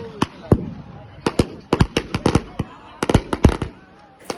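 Firecrackers burst during Shab-e-Barat night celebrations, a rapid irregular string of loud sharp bangs, some very close and some farther off, with scattered voices in between.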